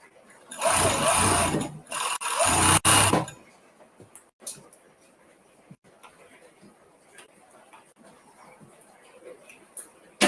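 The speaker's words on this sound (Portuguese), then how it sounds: "Eu estou usando a minha máquina de 3 fios, porque já está reguladinha." A three-thread overlock sewing machine stitches the shoulder seams of a tank top in two loud, close whirring bursts near the start, then falls quiet with only faint background noise.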